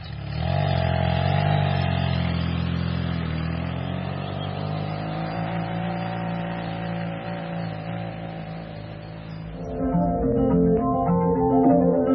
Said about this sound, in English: I'm just prepping the bike, ready for a run down the north east coast of England.